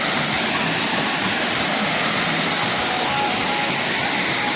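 A waterfall in Jamaica rushes in a dense, unbroken roar, loud and close, with no other sounds standing out.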